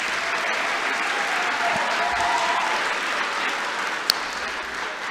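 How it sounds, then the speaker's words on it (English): A large graduation audience applauds teachers with a continuous wash of clapping that holds at an even level throughout, with a faint murmur of voices underneath and a brief sharp knock near the end. "So I think we can give them a big round of applause as well."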